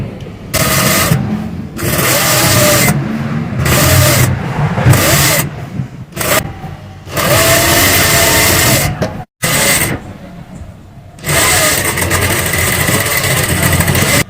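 A sewing machine stitching a frock runs in loud, close bursts of rapid mechanical whirring, stopping and starting several times with short quiet gaps between runs.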